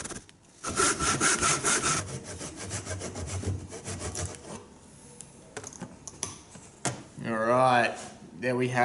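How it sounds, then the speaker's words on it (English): Tenon saw cutting away waste wood from a rebate in a table leg: steady rhythmic rasping strokes, close and loud, with a brief voice and lighter scraping near the end. "we can go and use our tenon saw to cut off the majority of the material in that rebate"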